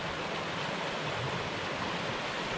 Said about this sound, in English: first little set of falls along the creek